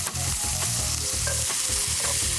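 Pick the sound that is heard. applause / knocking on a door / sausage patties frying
sausage patties frying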